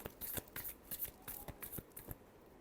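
Tarot cards shuffled by hand, a quick run of soft, papery riffling bursts in an even rhythm, close and quiet, with no one talking.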